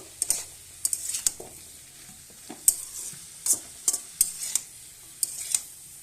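Vegetables with added salt and turmeric are stirred in a frying pan, with a series of sharp metallic scrapes and clinks of a spoon over a faint, low sizzle and no talk.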